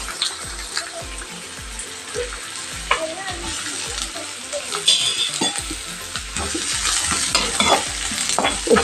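Onion dropped into hot coconut oil for a beef cutlet, a loud close sizzle with rhythmic spoon stirring that grows busier and more intense toward the end.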